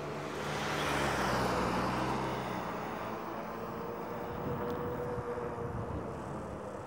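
A car approaches and passes close behind an e-bike rider on a road, a broad swelling whoosh of engine and tyre noise that peaks early and then settles into steady road rumble with no talking.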